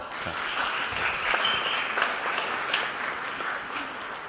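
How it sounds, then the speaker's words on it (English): Audience at an evening charity happy hour in New York claps together in a steady, dense round of applause, moderately loud and sustained throughout with no talking over it. "So I want you guys to give yourself a nice round of applause for that."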